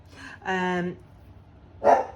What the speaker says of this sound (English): I apologise, that's my dog.